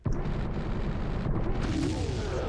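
A big explosion in the Zelda Ocarina of Time video game, a sustained loud rumbling blast that fills the whole moment without any speech.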